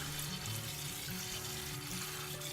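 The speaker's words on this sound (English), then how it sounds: "I'm going to take it over the sink and give it a good rinse. So pretty simple, just rinse it with cold water, not warm" Cold tap water runs steadily over wild garlic in a colander at a kitchen sink, a constant close splashing hiss with no talking.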